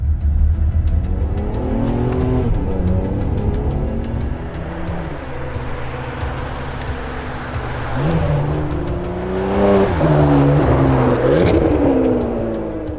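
A front-engined Ferrari 599 GTB Fiorano two-seat berlinetta drives past loud and close, its engine note rising and falling through revs and shifts, with a stronger surge of acceleration near the end.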